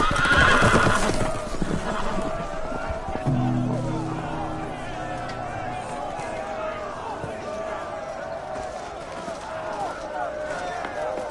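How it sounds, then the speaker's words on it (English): Horses neigh and whinny loudly amid hoofbeats and commotion as they break loose, with voices shouting over the chaotic soundscape of the video game Telltale's Game of Thrones. "The horses! They're loose!"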